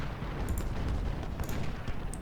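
Distant cannon and artillery fire rumbles through a Civil War battle in Ultimate General Civil War, a continuous low booming bed of battlefield noise with a few sharper cracks, no voices.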